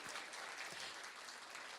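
A crowd at an appointment letter distribution ceremony claps steadily, a dense, even wash of applause with no break, heard from a moderate distance.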